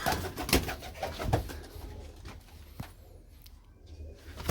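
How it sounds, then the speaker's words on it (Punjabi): A pigeon coos softly among broadband outdoor noise, a few low calls early on, then the scene grows quieter with faint rustles. "ਕਮਾਲ ਦਾ ਕਬੂਤਰ ਯਾਰ ਖੜ ਜਾ ਫਿਰ ਢੀਠਾ"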